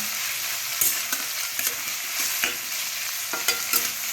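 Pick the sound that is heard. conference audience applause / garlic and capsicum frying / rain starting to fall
garlic and capsicum frying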